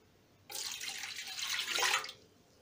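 Milk poured into the pan of an AICOK MBF-004 bread machine for brioche dough, a steady liquid splashing stream lasting about a second and a half, close and fairly loud, with no talking.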